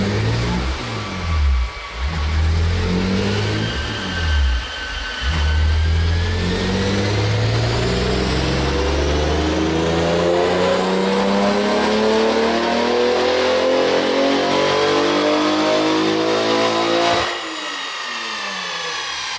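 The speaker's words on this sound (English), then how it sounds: "Roll the dyno." A Toyota 2GR-FE V6 on pump gas with a stock ECU revs up on a dyno in one long, loud, rising pull through the gears, climbing in pitch for about fifteen seconds before the throttle snaps shut.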